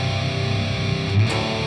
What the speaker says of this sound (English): the chords for the distortion part of the song